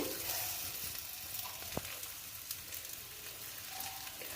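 A batter of egg and bread sizzles steadily in hot oil in a wok, a continuous crackling hiss with occasional faint clicks of a ladle.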